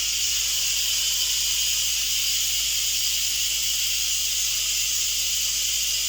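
A loud, continuous hiss of steam rushing out of a pressure cooker during a quick release while cooking baked ziti, steady and unbroken throughout.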